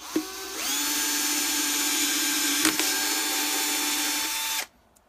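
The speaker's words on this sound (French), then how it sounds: "je prends ma mèche de 3 que je rentre ici dans le trou." A power drill fitted with a 3 mm bit whines at a steady high pitch for about four seconds while boring a vent hole, with a brief knock midway before it stops abruptly.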